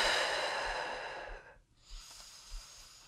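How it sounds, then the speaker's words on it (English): Slow breathing during a mat-based full-body workout, a long soft exhale fading to a pause, then quieter breaths with a faint sniff, close and alone. "Breathe."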